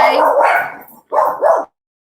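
A dog barks close by in a few sharp, loud bursts, a longer one followed by two quick ones, then silence.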